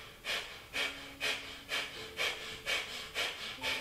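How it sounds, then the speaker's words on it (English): Breath of fire yoga breathing: rapid, rhythmic forceful exhales through the nose, about two per second, close and steady with nothing else heard. "the breath is breath of fire"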